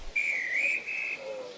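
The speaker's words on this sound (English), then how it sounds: "the guard's whistle." A guard's whistle at a railway station gives one long, loud, steady shrill blast with a slight wavering pitch, then a fainter, lower note trailing at the end.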